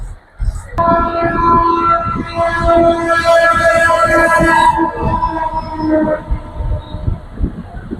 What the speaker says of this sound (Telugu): ఇక్కడ గేట్ పడ్డట్టు ఉంది ట్రైన్ వచ్చేటట్టు ఉంది